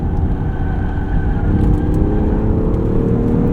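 Loud, continuous road and tire roar inside a 2026 Range Rover Sport Autobiography plug-in hybrid on the move, a dense low rumble with a faint whine, steady and close throughout, no one talking.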